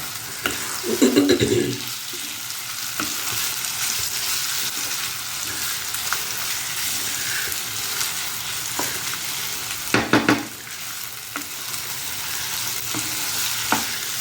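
Garlic sizzles and fries steadily in a hot pan for Indian gooseberry (amla) pickle, with occasional stirring clatters standing out over the continuous crackle.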